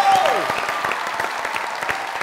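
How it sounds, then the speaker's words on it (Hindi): A studio audience at a comedy talk show breaks into steady applause, a dense patter of many hands clapping at moderate volume, with a brief tonal sound at the very start. "अरे अधिका जी के लिए तालियां बजाइए।"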